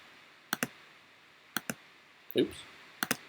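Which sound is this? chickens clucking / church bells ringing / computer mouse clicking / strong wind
computer mouse clicking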